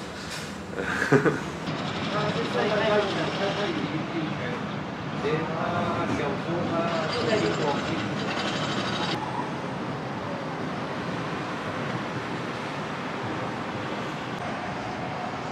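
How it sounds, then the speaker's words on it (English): A train rumbles and clatters past at moderate distance in Singapore, with a sharp metallic clank early on and steady rolling noise throughout. "Some of the trains moving in and out."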